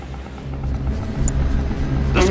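In Tiberium Wars, a Venom aircraft lifts off with a short, loud rumbling engine drone that builds steadily over about two seconds.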